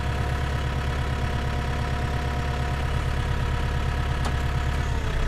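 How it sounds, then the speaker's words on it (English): An engine left running at a steady idle, a continuous low throbbing drone close by with no break, nothing else heard over it. "I've got to leave the engine running"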